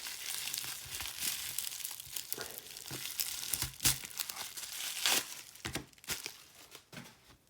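Packing tape on a mail package is pulled and crinkled up close in a dense run of crackling, tearing rustles with sharp bursts.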